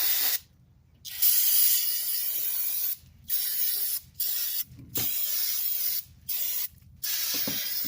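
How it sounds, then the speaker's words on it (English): Generic brake parts cleaner hisses loudly in several bursts of varying length onto old grease on a 1950s Sunbeam hedge trimmer, with short quiet gaps and faint clicks of the can between sprays. "We're going to take some of this generic brake parts cleaner and spray it down"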